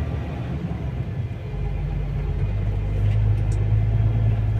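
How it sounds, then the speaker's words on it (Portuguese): Heavy road traffic on the BR 101 detour near Prado rumbles continuously, with low engine drone from nearby vehicles that swells slightly louder toward the end, no talking. "Trânsito brabo."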